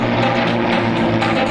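A T-34 Mentor vintage military propeller trainer flies by at an air show, its engine a loud, steady droning hum with pulsing rotor beats and no voices over it.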